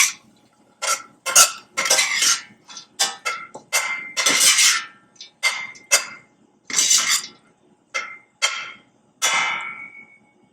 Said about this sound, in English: And then mix to combine it.